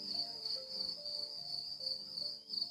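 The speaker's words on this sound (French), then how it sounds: "grillon." A cricket chirps in a steady, high-pitched trill that pulses rapidly and continuously, fairly close and clear, with a faint low background beneath and no voices.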